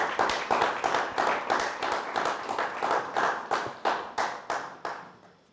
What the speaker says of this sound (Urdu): آئیے خداوند کو زوردار تالیوں سے جلال دیں۔